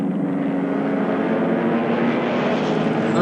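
P-38 Lightning and Zero fighter planes fight in the War in the Pacific video game, heard as a steady, loud droning of propeller engines with no talking over it.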